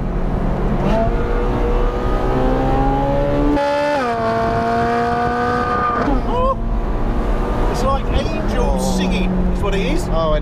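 A Ferrari 458 Speciale Aperta's V8 engine revs up into its mid-range, a loud, sustained rising howl with pitch climbing and dipping between pulls, and someone talking over it.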